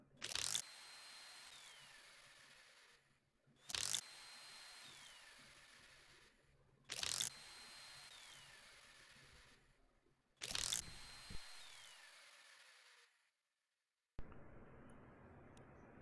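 An impact wrench set to high mode in the Wrench game drives lug nuts on a four-lug steel wheel, firing four loud, evenly spaced rattling bursts before a brief silence and a different mechanical hum.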